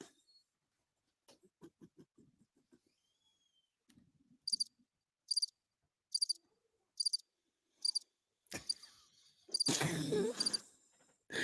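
A cricket chirping sound effect plays as short, evenly spaced bright trills in a regular rhythm, fairly loud against near silence, followed by a brief burst of broader noise at the end.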